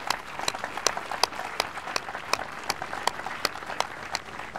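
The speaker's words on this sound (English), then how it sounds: "One more round of applause for her." Audience applause at a military change-of-command ceremony, steady scattered clapping of a modest crowd heard from a distance.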